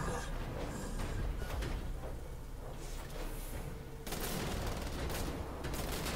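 Rapid video-game gunfire from Wolfenstein: The Old Blood crackles in clustered bursts, fairly loud and dense, with a sharp jump in intensity partway through and no voices over it.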